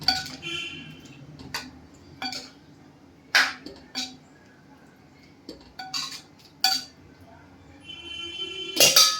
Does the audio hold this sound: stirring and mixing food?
yes